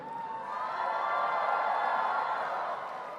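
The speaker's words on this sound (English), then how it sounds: "Whoa, what a crowd." A large audience cheering and applauding President Joe Biden as he takes the stage at an Asian Pacific American event, a dense, sustained roar of claps and shouts from a big hall, swelling and then easing slightly.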